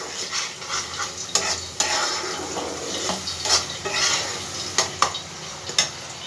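Bengali poppy seed paste masala being fried in a pan for potol posto, a close crackling sizzle punctuated by repeated sharp spatula scrapes and taps against the metal, with no talking.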